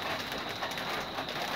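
Rain falls on strawberry plants growing under shade netting, a soft, continuous hiss of drops at low volume with no voices.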